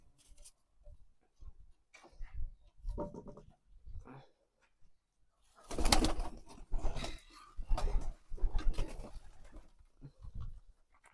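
Domestic pigeons being fed wheat, giving soft intermittent cooing and rustling pecks that come in irregular bursts, louder in the second half, with quiet movement sounds between.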